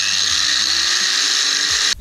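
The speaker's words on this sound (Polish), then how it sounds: "Pierwszy raz używam takiej szlifierki kątowej." Angle grinder cutting through a bicycle crank, a loud steady high whine held close for nearly two seconds before cutting off abruptly at the end.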